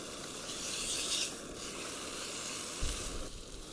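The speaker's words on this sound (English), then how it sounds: "I'll turn the heat down a little bit just to let it simmer" Food sizzles steadily in a Jetboil Minimo Summit Skillet on a camp stove during a hike, a continuous close hiss with a brief low thump near the end.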